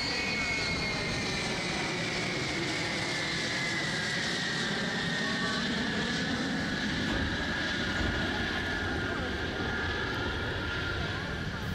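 Steady, loud drone of D-30KP2 engines inside the two-deck cabin of a Chinese Y-20 heavy transport aircraft in flight, a continuous broadband roar with a sustained tonal whine, unbroken throughout.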